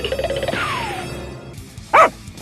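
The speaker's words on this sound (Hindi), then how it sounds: "ये कुत्ते क्यों हमारे पीछे पड़े हैं?" Dogs bark in a desi comedy skit: a run of quick yapping barks at first, a lull, then one loud, close bark near the end.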